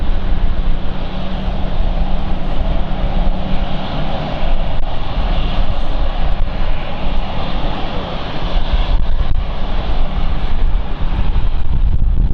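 Airliner departing London City Airport, its jet engines giving a loud, steady broadband roar that holds without a break from start to finish, with a little wind buffeting the microphone.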